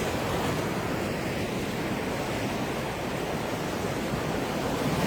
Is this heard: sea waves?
yes